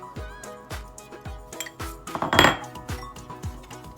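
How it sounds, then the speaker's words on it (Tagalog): A utensil stirs cocoa powder, baking powder and other brownie ingredients in a bowl, clinking and scraping against the sides in a quick, repeated rhythm, close up and without talk. "Haluin natin sila."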